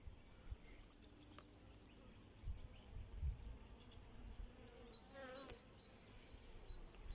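Honey bees fly around beehives outdoors, a soft buzzing drone with a passing insect whine near the end, fairly faint over quiet background.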